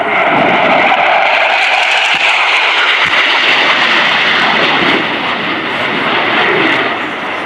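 Two BAE Hawk T2 jet trainers at an air show streak past low and fast at about 100 feet, a loud, roaring jet blast with a harsh tearing hiss that holds steady and eases slightly near the end.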